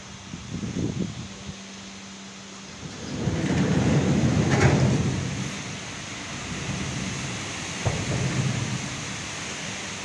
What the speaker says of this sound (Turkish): Rüzgar, yağmur, fırtına